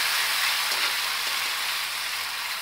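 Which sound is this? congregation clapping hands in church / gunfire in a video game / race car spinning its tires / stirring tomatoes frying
stirring tomatoes frying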